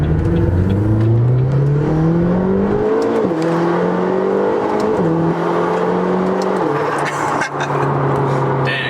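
A McLaren GT supercar accelerates hard from inside the cabin, its engine rising loudly in pitch through several upshifts with brief drops between gears, continuous and close.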